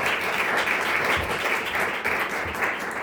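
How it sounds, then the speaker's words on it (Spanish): An audience at a book award ceremony for a novel prize claps steadily in dense, sustained applause that fills the room evenly for a few seconds. "Un aplauso para David."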